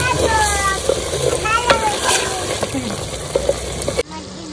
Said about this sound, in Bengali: এই কাঠের খুন্তিতে নাড়লে কি হয়, লেগে যায় না